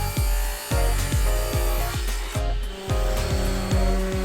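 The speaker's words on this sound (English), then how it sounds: "Here I am sanding the wood." Wooden boards for a heart-shaped hanging succulent planter are sanded by hand, producing rhythmic rasping strokes about twice per second, close and steady, over a faint background hum.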